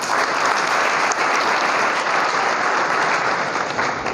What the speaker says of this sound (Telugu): సరే, చప్పట్లు బాగానే కొడుతున్నారు